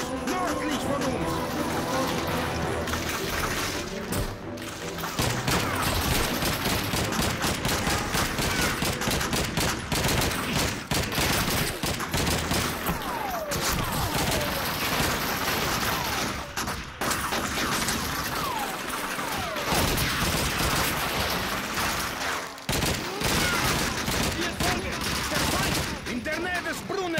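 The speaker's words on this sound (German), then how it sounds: "Da ist ein MG-42 nördlich von uns!" MG-42 machine gun fire in the video game Call of Duty 2, dense continuous bursts of gunfire and explosions in a loud battle scene, with shouting voices over the fighting.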